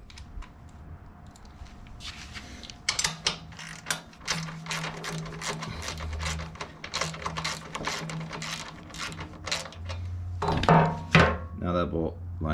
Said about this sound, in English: get this bolt to set, get that bolt to set, get those run halfway in, and then I'll tighten this bracket up